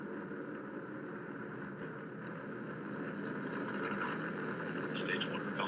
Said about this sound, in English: And Falcon has cleared the tower.